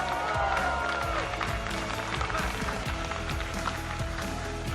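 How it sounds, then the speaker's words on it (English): An arena crowd at PAX West 2022 applauds and cheers for Light, a dense, loud, steady wash of clapping and shouting sustained throughout. "Give a round of applause and a lot of cheers for Light"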